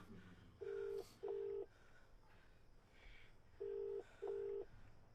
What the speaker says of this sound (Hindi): उसको फोन लगा रहा